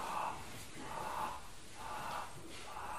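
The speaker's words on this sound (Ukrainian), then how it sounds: "Ми робимо довдихи через рот і видих також через рот. Але довдихи ми розбиваємо на такі сходинки." Stepped mouth inhalations in a breathing exercise, several short rhythmic breath bursts repeating about every second over a steady background hiss, fairly faint.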